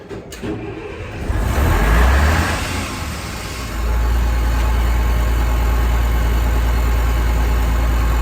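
A Leyland Atlantean double-decker bus diesel engine turns over on the starter, catches with a surge, then settles into a loud, steady, throbbing idle close by.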